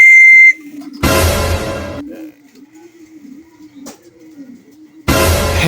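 Racing pigeons arriving at a loft in Pampanga, with soft repeated cooing and wing rustle under bursts of louder noise, and a brief whistle at the start.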